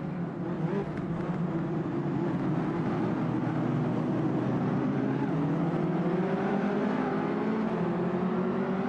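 In the Automobilista 2 racing game, a KTM X-Bow Cup race car's engine drones continuously, its pitch climbing and shifting as the car accelerates, heard steadily throughout at moderate loudness with no voices.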